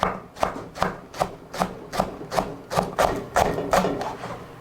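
Rhythmic knife chops on a cutting board as white scallion stalks are thinly sliced, about a dozen crisp, close strokes in a steady, slightly quickening beat, heard alone.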